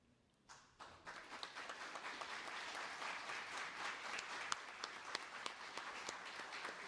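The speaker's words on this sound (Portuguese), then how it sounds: "para que todos nós pudéssemos aplaudi-los pelo esforço de vocês" A municipal council chamber applauds a delegation, with many hands clapping in a dense, sustained round that starts a second in and keeps going steadily to the end, heard from some distance.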